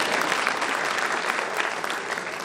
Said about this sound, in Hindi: एक बार इनके लिए ताली बजा दो